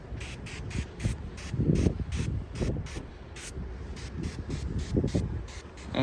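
Cleaner sprayed onto a Honda Acty mini truck during detailing, a rapid series of about fifteen short, sharp hissing spritzes in a steady rhythm, close and fairly loud over a low background rumble.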